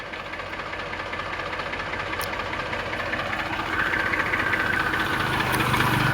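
A Massey 241 tractor's diesel engine idles loudly and close by, a steady rumbling chug that grows slightly louder toward the end, with no voices.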